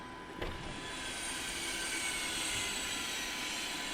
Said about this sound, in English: shut her down with the fuel cutoff switches